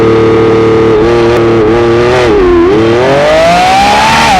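A 1,001 hp Lamborghini Revuelto making a launch-mode start, its engine loud and close, the pitch dipping briefly and then rising steadily as it accelerates hard.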